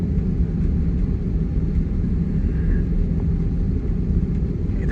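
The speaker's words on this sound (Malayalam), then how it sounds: "നമ്മുടെ ഫ്ലൈറ്റ് ഇതാ റൺവേയിലൂടെ പോയിക്കൊണ്ടിരിക്കുകയാണ്" Inside an airliner cabin as it rolls along the runway, a steady low engine and wheel rumble drones on evenly without talk.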